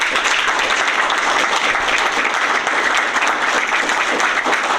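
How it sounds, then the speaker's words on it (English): People at a school board meeting in Sitka give the retiring staff a round of applause, loud, close and sustained clapping from a roomful of people that stays steady for several seconds. "How about a round of applause for our retirees?"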